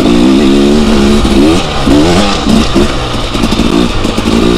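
A motorcycle engine revs steadily up close, the pitch rising and dipping as gears change, with no voices.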